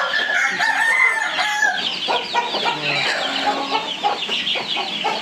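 Hens and chickens cluck and call inside a poultry shed, with a dense, continuous chatter of many birds at moderate distance and no clear talking.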